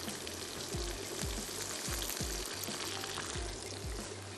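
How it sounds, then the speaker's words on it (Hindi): Water is poured into a hot cooking pan of spices and gives a continuous gushing, sizzling wash of sound. A faint, regular low thudding runs underneath at moderate level. "तो मैं इसमें ऐड कर देती हूँ 2 से 3 टेबल स्पून पानी"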